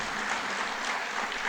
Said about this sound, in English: let us give a big round of applause to all of us